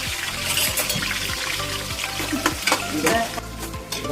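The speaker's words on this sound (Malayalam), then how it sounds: "ഇതിലേക്ക് സൺഫ്ലവർ ഒഴിച്ചു നമ്മൾ ഉള്ളി ചെറുതായിട്ടൊന്ന് വാട്ടി" Onions soften in sunflower oil with a dense, continuous crackling sizzle, close and fairly loud, scattered with quick stirring scrapes and a few brief louder pops near the end.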